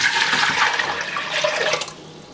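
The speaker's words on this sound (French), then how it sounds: "Donc premièrement on va mettre de l'eau" Nearly two litres of water poured into a pot for boiling potatoes. It makes a loud, continuous rushing splash that eases off toward the end.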